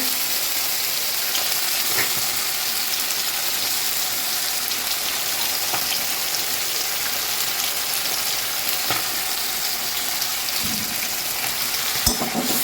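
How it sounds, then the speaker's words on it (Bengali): Spice paste, salt and turmeric frying with onions in a pan make a continuous, crackling sizzle, fairly close and even, broken by a few sharp clicks and a soft scrape. "পেঁয়াজ ভাজি হয়ে গেছে, এখন মশলাটা দিয়ে দিচ্ছি। নুন হলুদ দিয়ে দেবো একসঙ্গে।"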